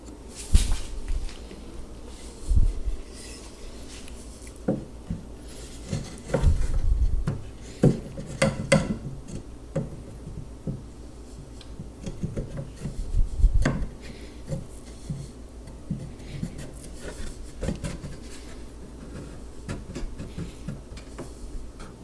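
Wooden shelf dividers slide and knock into a white oak kitchen island, with scattered rubbing scrapes and soft wooden thumps at irregular intervals, fairly close and without talk.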